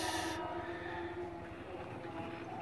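A PT KAI special inspection train runs near Garut station in Indonesia, giving a steady low rumble of rolling wheels and a tonal engine drone, fairly close and continuous, with a brief hissing burst at the start.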